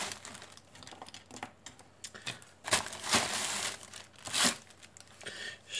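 A large plastic parcel bag from AliExpress, puffed with air, crinkles and rustles as it is handled, with louder crumpling bursts in the middle and near the end.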